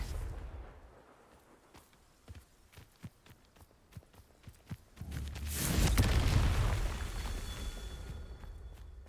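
A Confringo blasting spell erupts in Hogwarts Legacy: several sharp percussive pops and thuds scatter through the first half, then a loud, broad explosive whoosh swells and rumbles before fading into a lingering hiss.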